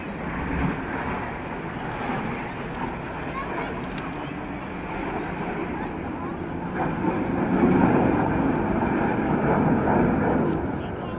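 Red Arrows jets performing rollback manoeuvres at the Blackpool Airshow make a continuous distant engine rumble. The noise swells slightly late in the stretch, under a commentator's voice.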